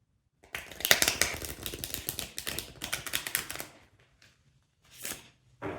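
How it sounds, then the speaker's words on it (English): Rapid riffling and flapping of a tarot deck being shuffled close by, in quick bursts with short pauses, ending with a few soft taps. "Just bear with me until I shuffle the deck."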